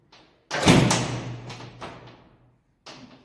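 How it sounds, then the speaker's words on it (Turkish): A repaired steel door is opened: a solid thud and scrape as it swings, a fading metallic ring, then a short softer knock at the end. "Açayım kapıyı."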